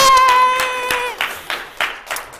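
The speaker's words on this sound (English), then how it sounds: "Big applause, please." A brief round of applause from a small crowd, following a ringing tone that fades out.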